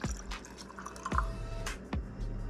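Pickling solution of water and vinegar is poured into glass jars for tomatoes, cucumbers and peppers, with splashing liquid and a few sharp drips and clinks, close and clear, no voices.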